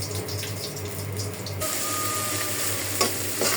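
Oil sizzling in a wok as taro leaves (kochu shak) are tempered, a steady hiss that shifts abruptly to a brighter, busier frying sound with a couple of faint clinks near the end.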